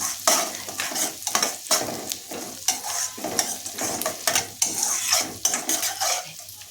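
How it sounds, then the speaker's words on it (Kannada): Split green chillies fry in a pan for pepper rice, with soft sizzling under repeated scraping and clinking of a metal spoon stirring against the pan in an uneven rhythm, close and fairly loud. "ಇದನ್ನು ಇಲ್ಲಿ ಹುರಿತಾ ಇದ್ದೀನಿ"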